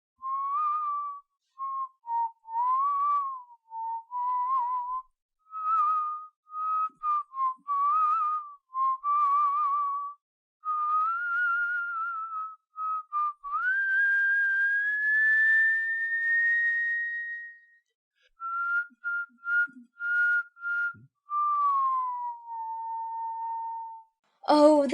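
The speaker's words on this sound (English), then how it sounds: "and began whistling." Someone whistles a wandering, playful tune alone, with short phrases, pauses and sliding held notes.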